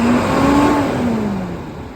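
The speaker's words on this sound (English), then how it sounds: "Hear the engine sound great." A 2012 International 4400 diesel crane utility truck revs its engine, the pitch climbing and then sliding back down over about two seconds, loud and steady with no voices.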